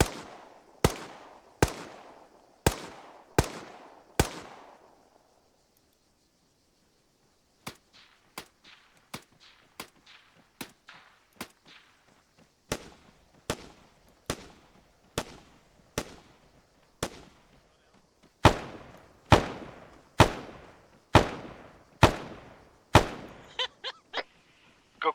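Rapid sharp gunshots crack out in bursts with a pause between groups, loud near reports with short decaying echoes, many more than six in all.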